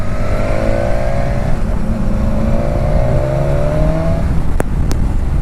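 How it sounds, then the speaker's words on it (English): A 2019 BMW S1000XR motorcycle engine being revved while riding, its tone climbing in long sweeps through the gears beneath a steady, loud rush of wind. "Yeah, I definitely need to rev it a little bit to get some juice."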